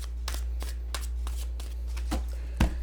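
A deck of cards is riffled and shuffled repeatedly in quick, crisp bursts over a low steady hum, close up.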